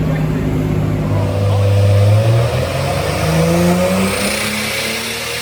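A 2JZ-GTE engine in a Mk3 car revs hard on a dyno pull: a loud, continuous, near roar whose pitch climbs, dips and climbs again across the run.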